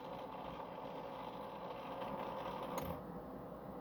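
An antenna rotor motor turns clockwise with a steady, close mechanical whir that holds an even level for several seconds, then gives a brief click near the end.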